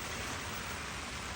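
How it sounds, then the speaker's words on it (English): Steady rain falls outdoors on a wet, rocky trail, a dense, even hiss that stays constant throughout with no voices. "Proper raining."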